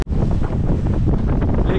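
The sailboat Pearl plunges through deep sea waves, a loud, close rush of water and blustering wind buffeting the microphone, churning without break for under two seconds.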